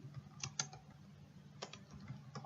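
Computer keyboard typing Java code: a handful of faint, scattered key clicks in two small bursts over a low steady room hum, quiet and close, with no voices.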